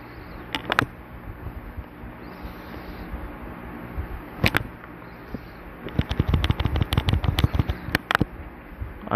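Video game gunfire from Silent Hill on the PlayStation, fired during a boss fight against the Twinfeeler: a few isolated sharp shots early on, then a dense rapid burst of cracking reports near the end, loud over a humming background.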